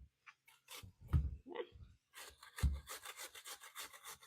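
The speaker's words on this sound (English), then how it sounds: "And then we're going to shred or grate them using our little hand grater here." A potato is rubbed across the coarse side of a hand grater for hashbrown patties, giving soft, rasping strokes, close but fairly quiet, with a few thumps between them.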